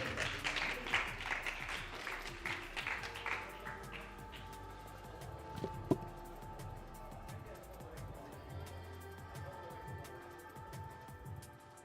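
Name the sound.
audience applause at awards ceremony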